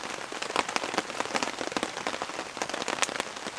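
Rain drumming on a tarp at a solo overnight camp, a close, busy patter of drops striking the fabric in an uneven, continuous rhythm with no talk.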